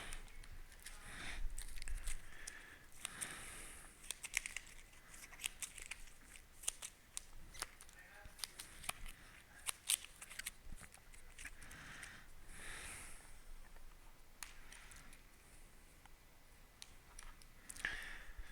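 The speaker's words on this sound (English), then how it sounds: "I'm going to shuffle the decks first because they're right in front of me." Large encounter deck of game cards being shuffled close up, with repeated crisp riffling and snapping bursts spread through the stretch, no talk over it.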